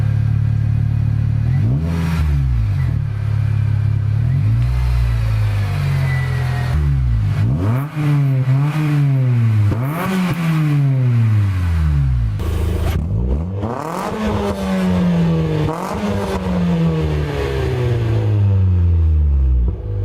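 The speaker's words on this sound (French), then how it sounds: "Donc ça c'est la RSX. Ça sonne quand même très bien." An Acura RSX race car engine revs hard and close, climbing and dropping repeatedly through loud, raspy sweeps with a steady idle rumble underneath and sharp throttle blips between pulls.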